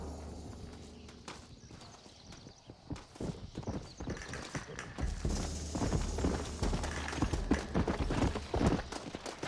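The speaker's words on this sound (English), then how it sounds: "Looks like Carlos left us some horses." Horse hooves in Red Dead Redemption clip-clop along at a quickening pace, with scattered impacts and rising commotion, a few faint whinnies mixed in.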